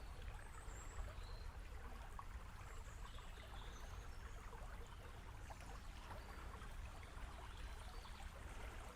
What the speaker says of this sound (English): You hear that lovely sound of running water